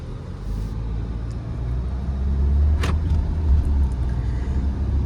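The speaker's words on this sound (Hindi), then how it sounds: "और यहाँ से अब गाड़ी चल दी।" A 2024 Jeep Meridian pulls away with a steady, loud low engine rumble from inside the cabin that builds slightly as the car gets moving.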